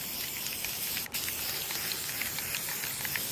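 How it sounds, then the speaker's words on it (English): Spray paint hisses steadily onto a twig-framed mirror in light coats. The spray is continuous and fairly quiet, with one brief break partway through. "now I'm going to go ahead and start spray painting it"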